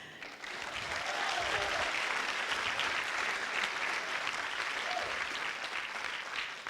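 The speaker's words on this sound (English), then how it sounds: "You guys started clapping a little early, but that's okay." An audience at a school graduation ceremony claps steadily for several seconds, a dense, sustained wash of applause that swells quickly and holds at an even level before easing slightly at the end.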